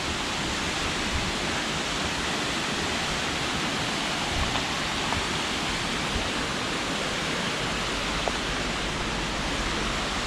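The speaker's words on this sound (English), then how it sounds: "is the waterfall in the Black Forest" A waterfall in the Black Forest near Breisach, Germany roars as a dense, steady rush of falling water, loud and continuous with no voices.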